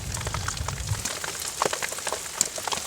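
Rain falling steadily outdoors in Utah elk country, a dense soft patter of drops on surfaces with occasional sharper individual drips, fairly close and continuous with no talking.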